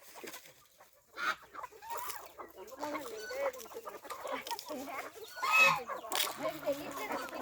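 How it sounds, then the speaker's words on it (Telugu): Chickens and ducks cluck and chatter nearby while pecking at scattered feed on a small farm. The calls are irregular and moderately loud, with bursts of flock noise and light rustling. "చూడండి ఎంత నీట్గా చక్కగా కోళ్ళకి బాతులు ఎంత బాగా తింటున్నాయి"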